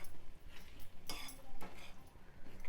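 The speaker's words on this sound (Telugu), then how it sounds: "ఇదంతా చక్కగా కలుపుకోవాలి." A metal spoon scrapes and clinks against a pot as mirchi ka salan is stirred, with a few louder strokes at an unhurried pace, fairly close.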